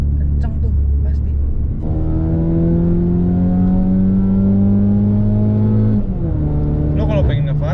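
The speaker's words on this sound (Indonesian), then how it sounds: "Tapi dengung nih knalpotnya Bren." A modified Mazda 3 hatchback with a naturally aspirated engine drones loudly through its aftermarket exhaust, with a short blip, then a sustained rising rev held for several seconds before dropping back.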